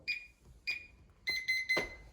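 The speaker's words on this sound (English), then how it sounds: "Beep 3 times, they're all reset" Five high electronic beeps from a Kwikset Powerbolt 2 keypad door lock as all user codes reset: two spaced single beeps, then three quicker ones in a row, clear and close.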